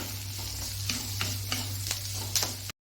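Steady sizzling of onions sautéing in hot oil, with a handful of soft stirring scrapes at irregular intervals, then a sudden cut to silence.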